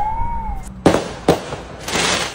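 A few sharp, loud bangs from exploding fireworks, spaced unevenly, followed by a crackling burst; a faint whistle rises just before.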